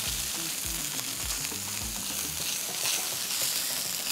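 Steak sizzles and crackles steadily in a pan over medium heat, a dense, even frying hiss with occasional low scraping or clattering sounds, close and without talk.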